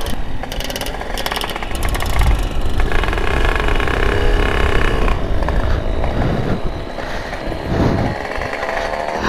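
A motorcycle engine runs loud and close throughout, its rough, buzzing note rising and falling as the throttle is worked, with no voices over it.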